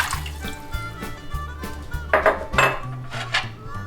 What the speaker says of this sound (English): we want to add our 3 cups of water